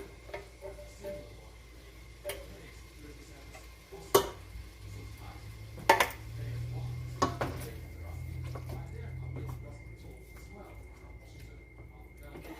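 Homemade spaghetti sauce stirred in a pot after tomatoes go in, with scattered metallic clanks and scrapes of a utensil against the pot, a few louder knocks, and quiet kitchen sounds in between.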